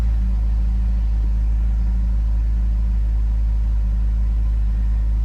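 A red 2015 Ferrari California T, 560 hp, sits at a steady cold idle, its deep engine rumble loud, close and unbroken throughout with no revving.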